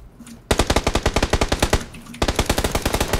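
Rapid automatic gunfire in a battle royale video game, a fast loud burst of evenly spaced shots, a brief pause, then another sustained burst, close and alone.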